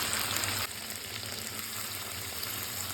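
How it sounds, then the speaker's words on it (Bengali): Chicken and potatoes frying in spiced masala give a steady, dense sizzle that drops abruptly in level as hot water goes into the pan, then continues as a softer, even bubbling hiss. "মশলার সাথে আমার সুন্দরভাবে চিকেনটা কষানো হয়ে গেছে। এবার আমি জল দিয়ে দেবো।"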